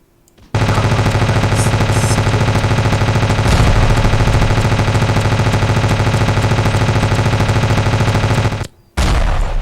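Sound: gunfire from a weapon shooting at a tank in the video game Ravenfield

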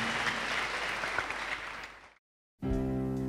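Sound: audience applause in church

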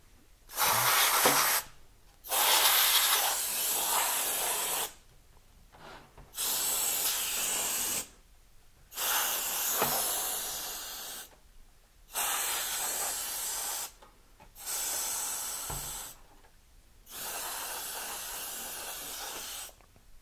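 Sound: canned air spraying

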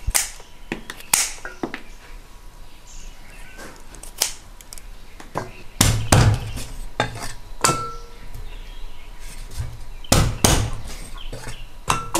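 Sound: chopping chicken feet

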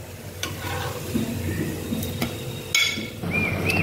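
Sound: bread masala frying in a pan

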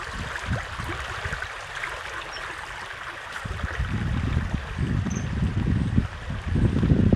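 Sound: flowing water stream

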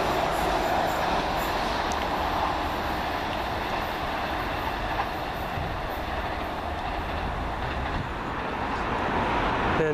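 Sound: train passing at Swaythling station

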